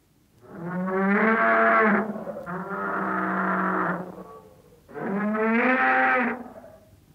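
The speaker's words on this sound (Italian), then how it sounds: "Muggito di bue." An ox moos three times in slow succession, each call long, deep and loud with a rich droning tone, the second call drawn out and slightly flatter, with no other sounds around them.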